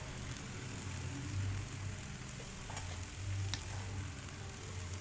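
Oil with sweet soy sauce crackles softly in a pan as the mixture is stirred, a low steady sizzle with faint scraping ticks, close and fairly quiet with no talking.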